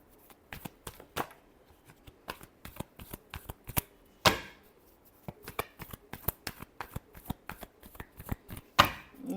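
Tarot cards shuffled by hand in a quick run of crisp riffles and slaps, some sharper flurries standing out, close and fairly quiet with no talking.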